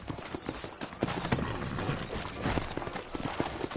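Horse hooves clip-clop at a steady trot on a road in Red Dead Redemption, several horses moving together with faint creaking tack and mechanical rattles, no talking.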